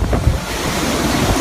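Loud typhoon winds and crashing waves during a severe storm in China in August 2017, with steady roaring wind noise buffeting the microphone over continuous surf, and no voices.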